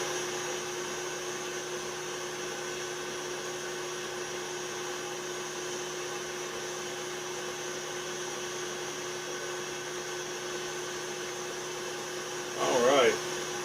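A stand mixer with the paddle attachment churns molasses cookie dough in a steady, loud motor whir that holds unchanged throughout, with a short clatter of movement near the end.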